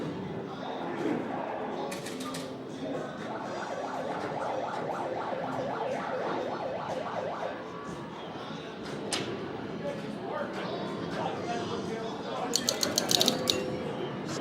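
Arcade machines are being tested at the Houston Arcade Expo before the grand opening, with electronic game tones, jingles and siren-like effects rising and falling over a busy hall din, bursts of rapid clicking near the end.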